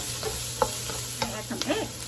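Red onion and carrot are stirred in a pan for Lao fried rice, making a soft sizzle with a few quick scraping and clinking spatula strokes, close and moderately quiet, with no talk.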